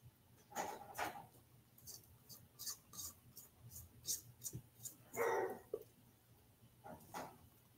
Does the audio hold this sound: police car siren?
no